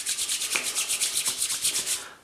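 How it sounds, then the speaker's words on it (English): A cooling shaving balm is rubbed between warm hands in quick, even back-and-forth strokes, a soft, close swishing repeated about a dozen times before it stops. "Rub it into warm hand."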